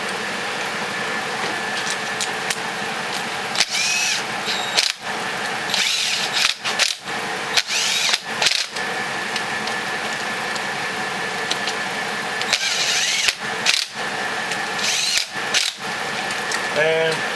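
Bolts on a Kawasaki Brute Force engine are tightened with a power tool and ratchet, in repeated short whirring bursts and clicks spread through a steady workshop hum.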